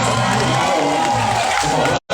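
A dense crowd at an outdoor temple mini-concert in Samut Sakhon, Thailand roars and cheers continuously, with clapping mixed into the wash of noise, until it cuts off abruptly near the end.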